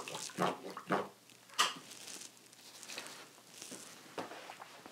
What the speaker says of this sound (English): rinsed out my brush